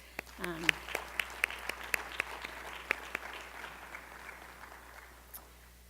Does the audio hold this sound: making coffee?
no